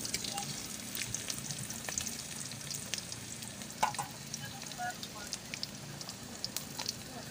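Bay leaf and spices fry in hot oil for a pumpkin and potato dish, giving a soft, steady crackle with scattered small pops, quiet and close.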